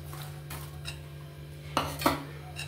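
A spoon clinks against a bowl while fruit custard with pomegranate seeds, banana, grapes and apple is stirred, soft scraping broken by two sharper knocks near the end, close and quiet.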